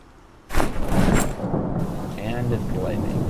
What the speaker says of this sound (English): Oh god, it's raining